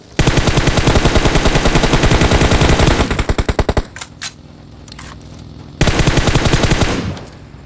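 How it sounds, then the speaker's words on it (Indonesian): Rapid bursts of automatic gunfire in the video game PUBG Mobile, loud and close, with a sustained stretch, a brief pause filled by lighter clicks, then another burst. "Ada tembakan sekarang"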